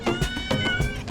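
A cat on Culebra, Puerto Rico, gives a quick series of short, close, fairly loud meows, about four in a second.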